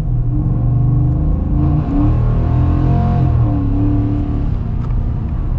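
A 2021 Ford F-150 pickup's 5.0 V8 engine revs hard with a deep, throaty rumble, rising and falling in pitch, loud and close with no talking.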